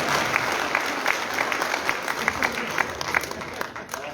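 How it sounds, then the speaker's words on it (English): An audience at an education launch event gives sustained applause, many hands clapping steadily at moderate volume with a slightly uneven patter throughout. "Now you can clap if you want."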